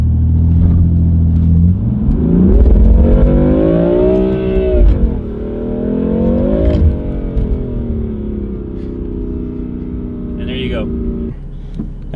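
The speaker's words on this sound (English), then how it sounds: "I'm going to do my best to kind of show you how this car can launch" A 2015 BMW M4 revs hard and launches, the engine note climbing and falling through loud close sweeps with exhaust rumble and a shift near the end, under people talking.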